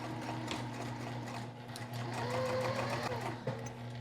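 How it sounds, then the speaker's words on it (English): A sewing machine stitches a quarter-inch seam in fabric for a cube organizer, giving off a steady, continuous mechanical whir with a faint rattling texture. It runs close and alone for the whole stretch. "this time I'm going to be sewing at 1/4 inch seam allowance."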